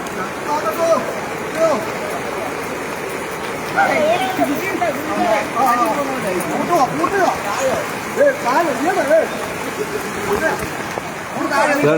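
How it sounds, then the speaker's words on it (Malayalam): Floodwater rushing strongly during heavy rain in Kerala, a steady loud wash of flowing water heard beneath someone talking throughout. "വെള്ളം നല്ല വരവാണ്."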